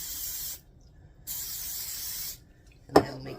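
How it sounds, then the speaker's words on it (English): Nonstick cooking spray hisses from an aerosol can onto a spoon in two close, steady bursts of about a second each, followed by a brief clatter. "I'm going to spray my spoon with some nonstick spray."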